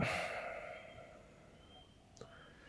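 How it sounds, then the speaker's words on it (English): A person breathing out slowly during a breathing exercise, a soft airy exhale that fades over a couple of seconds, followed by quiet and a faint click. "and breathing out"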